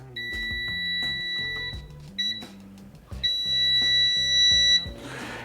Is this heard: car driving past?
no